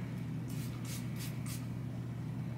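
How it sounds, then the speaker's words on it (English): A pink stain remover spray is squirted onto clothing in four short, soft hissing bursts, close by, over a steady low hum in the background. "I really went and got my pink spray. Because it's a little stain on here."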